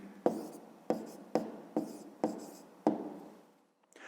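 Pen writing an answer by hand on paper for a fifth-grade maths exercise: six short scratchy strokes at a steady rhythm, each starting sharply and fading, close and fairly quiet, with no talking.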